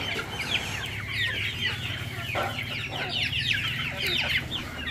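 Chickens cluck steadily on a Vietnamese backyard farm, a flock of fowl with overlapping soft clucks and chirps throughout, moderately close, with no talking.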